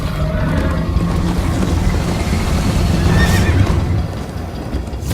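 A horse whinnies in Minecraft Story Mode amid a dense, continuous rumble of game sound effects and hoofbeats, loud and close throughout.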